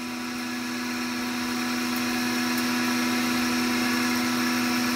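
A lathe takes repeated 75-thousandths-deep cutting passes on a stainless steel solid rocket motor igniter part, a steady droning hum with a constant tonal whine, close and unbroken.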